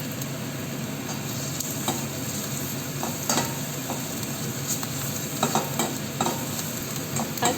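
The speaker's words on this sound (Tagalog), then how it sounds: "maglagay na rin po tayo ng garlic paste" Garlic paste sizzling and being stirred in a frying pan while cooking chicken adobo, a steady close crackling fry with scraping stir strokes throughout, no voices.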